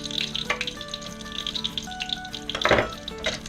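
Stuffed pork loin sears seam side down in a hot pan, a steady close sizzle and crackle with a louder burst of spattering near the end, no voices.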